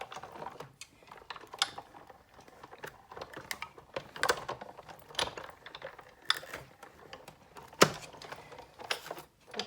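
A Big Shot die-cutting machine feeds a framelit die through its rollers, giving a steady run of faint mechanical clicks and ratcheting taps over about ten seconds, with a few sharper knocks.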